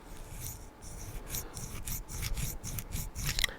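A Sheffield Caddo 8106 knife blade with a gritty action is swung open close up, giving a coarse, scratchy rasp in a run of short, repeated strokes with no talk.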